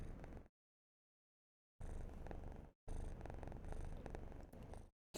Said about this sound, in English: I have a very, very purry boy in my arms right now.